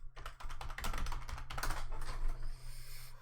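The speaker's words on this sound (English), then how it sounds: "Oh, loud, angry typing." Loud, angry typing on a computer keyboard: a rapid, close clatter of hard keystrokes that runs almost without pause, with no one talking.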